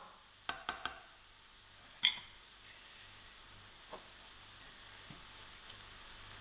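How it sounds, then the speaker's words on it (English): Garlic sizzles quietly as it starts cooking in a pan, a faint low hiss with a few sharp utensil clinks and taps near the start. "So the garlic will start cooking and releasing that lovely garlic aroma"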